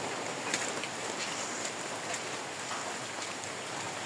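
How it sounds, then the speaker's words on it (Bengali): Light drizzle falls on a village courtyard, a faint, steady patter of fine drops with occasional soft ticks and no other sound. "টিপ টিপ বৃষ্টি হচ্ছে"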